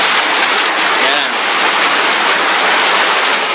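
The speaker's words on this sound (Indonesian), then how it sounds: "Hujannya gede untuk arah BCP" Heavy rain pours down as a dense, loud, unbroken hiss that fills the whole stretch. A voice is faintly heard under it.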